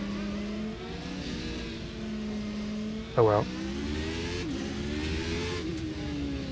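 McLaren race cars in the video game rFactor 2, engines humming and rising through gears with gliding revving tones, a short sharp burst midway, and someone speaking briefly over the steady engine drone.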